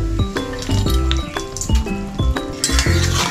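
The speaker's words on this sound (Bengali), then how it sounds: "দিয়ে একটু ভালো করে আমি নাড়িয়ে দেব" Brinjal, bori and bitter gourd are stirred into boiled vegetables in a pan for shukto, with repeated scraping clinks of a spoon against metal over a soft sizzle, steady and close.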